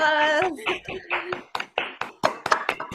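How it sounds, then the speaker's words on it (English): A group on an online video call applauds: a voice at the start gives way to scattered, uneven claps arriving in bursts from several participants, close and fairly loud. "Give some applause."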